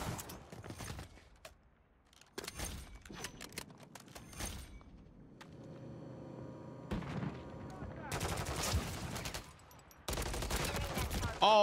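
Gunfire in the video game Call of Duty: Modern Warfare III, with bursts of automatic fire and rapid shots alternating with quieter mechanical game sounds, fairly loud and close, mixed with other in-game effects.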